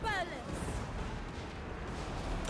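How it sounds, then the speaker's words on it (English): Cannon artillery fire in the battle game Total War Warhammer 3, a dense rumbling barrage of booms in a loud, noisy mix, opening with a brief high whistling streak. "Ooh, we got savaged by the cannons there."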